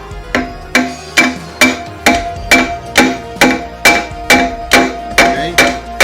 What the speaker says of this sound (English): So let's get the bar and the hammer.